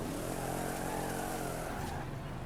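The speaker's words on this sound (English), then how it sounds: "That's an interesting engine note. Sounds more like a 100cc quad bike" Ford car engine in Forza Horizon 5 holds a steady, thin buzzing drone with shifting harmonics, close and continuous throughout, no talk over it.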